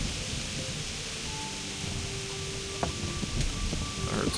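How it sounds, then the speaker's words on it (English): Heavy rain in the medieval video game Kingdom Come: Deliverance, a steady, dense hiss of downpour that fills the scene throughout, with faint scattered drips and small knocks near the end and no voices. "it is just absolutely shitting rain. And lightning."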